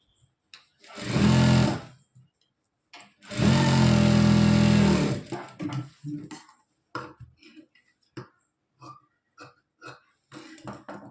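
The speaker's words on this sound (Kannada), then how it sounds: "ನಾನು ಇಷ್ಟು ಫೋಲ್ಡಿಂಗ್ ಮಾಡಿಕೊಂಡು ಎಡ್ಜಿಗೆ ಒಂದು ಪಾಯಿಂಟ್ ಥರ ಸ್ಟಿಚ್ ಹಾಕ್ಕೊತೀನಿ." A sewing machine runs stitching along the folded edge of a lehenga in two loud close bursts, the second one longer, followed by quieter scattered clicks and handling sounds.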